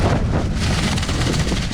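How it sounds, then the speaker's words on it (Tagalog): Strong wind roars and buffets against the microphone in a constant, loud rush on a cliff top at Omana, with no voices. "sa lakas ng hangin na yan"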